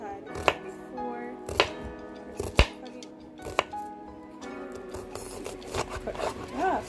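Knife chopping an onion on a cutting board, a handful of sharp, separate chops spaced irregularly over a steady low background hum, fairly close.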